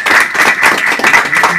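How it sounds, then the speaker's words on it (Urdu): Loud, dense applause from an audience at an Urdu mushaira poetry gathering: a continuous wash of many hands clapping together, close and filling the whole moment. "زوردار تالیوں سے"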